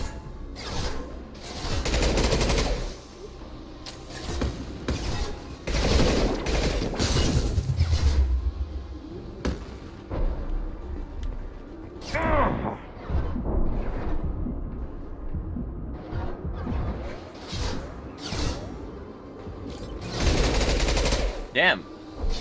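Repeated gunfire bursts from a Mass Effect 2 battle, played on Insanity difficulty: loud, irregular volleys and single cracks spread across the scene, with a voice talking over the fighting.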